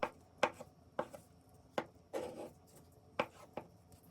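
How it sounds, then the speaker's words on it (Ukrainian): A knife taps sharply against a cutting board in a loose, irregular series of chops through boiled eggs, close by and moderately quiet, with no voices. "нарізаю яйця"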